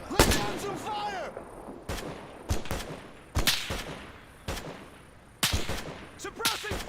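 Suppressing gunfire in ArmA 3: a series of loud, sharp artillery-like blasts about once a second, each with a booming tail, mixed with brief shouted voices.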